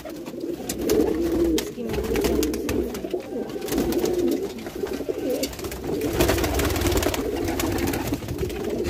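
Domestic flying pigeons kept for pigeon-flying in Moradabad, including a white high-flying bird, coo steadily and close by, with overlapping low throaty calls rolling through the whole stretch and no one talking.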